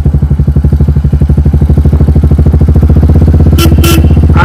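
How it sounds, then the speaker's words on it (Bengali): Motorcycle with a loud aftermarket silencer exhaust, close and steady, a fast throbbing idle-like thump pulsing throughout with a brief hissing burst near the end. "আর আমার বাইকের সাইলেন্সার খুব লাউড"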